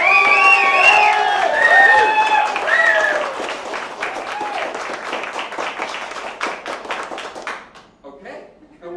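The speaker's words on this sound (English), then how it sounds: "Applause now." A science slam audience in San Francisco in 2013 bursts into loud, sustained applause with whoops and cheers early on, the clapping thinning and fading over nine seconds.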